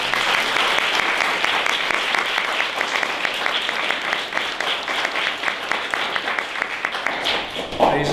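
An alumni event audience gives steady applause, dense, even clapping from many hands that holds at a moderate level throughout.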